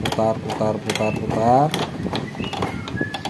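A bolt being turned on a homemade perforation printer gives off a few short mechanical ratcheting clicks and a brief whirring creak, close and fairly loud, with a person talking alongside.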